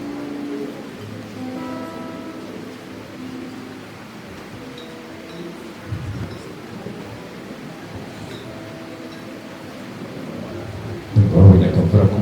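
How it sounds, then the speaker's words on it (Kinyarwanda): Rain shower with thunder at an outdoor wedding reception: a steady wash of rain hiss over a low rumble, with tonal sounds faintly underneath and a sudden loud crack of thunder near the end. "Aka ni akavura k'umugisha."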